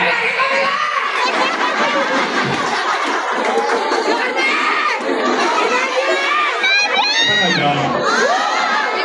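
A large crowd, many of them children, shouting and cheering together in a loud continuous roar, with scattered laughter and individual voices rising out of the din.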